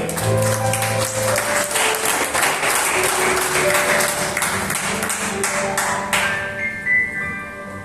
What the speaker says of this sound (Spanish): Dale un aplauso al que vive y ve.